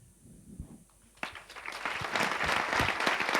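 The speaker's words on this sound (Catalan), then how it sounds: "Un fort aplaudiment." A school audience at a project presentation breaks into applause after a quiet start, the clapping swelling quickly into a dense, sustained burst that grows louder to the end.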